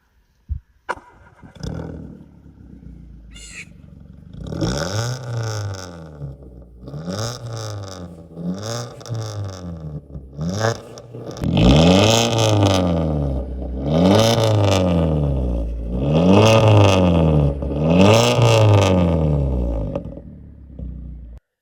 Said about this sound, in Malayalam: ഇപ്പോൾ നമ്മുടെ വണ്ടി ചെയ്തിരിക്കുന്ന റെമൂസിന്റെ എക്സോസ്റ്റ് ആണ്. അപ്പോൾ അതിന്റെ സൗണ്ട് നമുക്കൊന്ന് കേട്ട് വയ്ക്കല്ല.